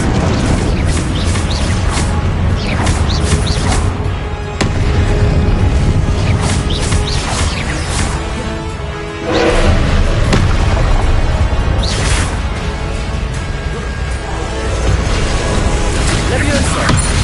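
Confringo blasting spells explode repeatedly in Hogwarts Legacy, loud booms and crashes layered over dense, continuous combat noise with a voice calling out through the fight.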